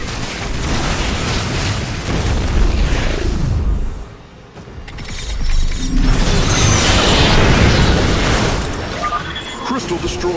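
A crystal in StarCraft II blows up in a loud, rumbling explosion with a burst around the midpoint, surrounded by a dense wash of game effects and battle noise, with a brief dip before the blast.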